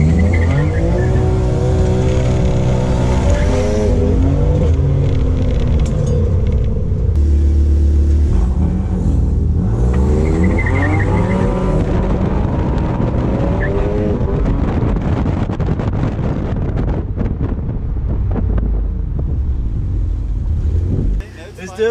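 A BMW M2 Competition launches hard from a standstill and accelerates, with a loud rising engine roar through several gear changes and some tire noise. It is heard from inside the car with a voice briefly present, and the roar stays strong until it fades near the end.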